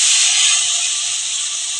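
Water poured into a hot pan of thin hilsa fish curry with potatoes gives a loud, steady steamy hiss that fades slightly over about two seconds, close by and without speech.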